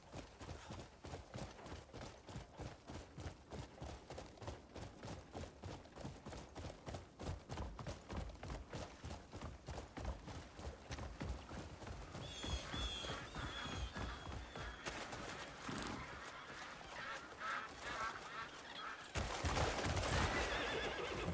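Rhythmic clip-clop of horse hooves at a steady trot with repeated whinnying and neighing in the video game Crimson Desert, continuous, growing busier toward the end.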